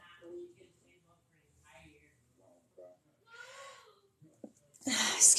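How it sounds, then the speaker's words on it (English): One person sneezes loudly and sharply near the end, after some breathy, moaning vocal sounds. "Excuse me, sneezing."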